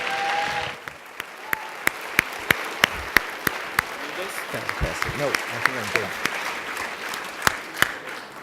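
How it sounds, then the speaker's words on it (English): An audience at a charity gala claps warmly, a dense run of applause with a few sharp louder claps standing out. A voice speaks at the start of the applause. "A round of applause for you."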